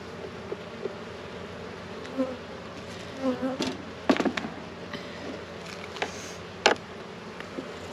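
Honey bees buzz faintly and continuously close by at an open hive with a drone-laying queen, with scattered soft clicks and a few sharper knocks and rustles as frames are handled.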